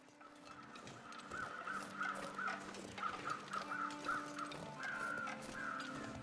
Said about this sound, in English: Where are these crows?